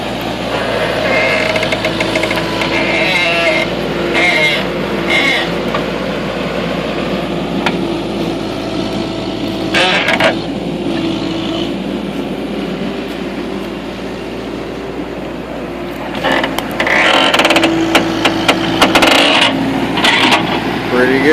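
A backhoe engine rumbles steadily throughout while pulling big tree stumps out of the ground, with intermittent clanks and metallic knocks from the bucket and arm, fairly close and loud.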